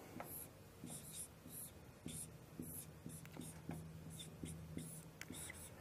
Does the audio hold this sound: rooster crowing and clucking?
no